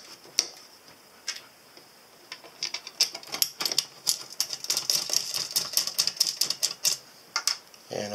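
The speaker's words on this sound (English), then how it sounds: "Now I'm going to mount the side of the cabinet together right here." Metal side panel of a power supply cabinet for a lithium battery charger being fitted and fastened, producing irregular sharp clicks, taps and ratcheting clatter that grow busier midway, close and moderately loud with no talking.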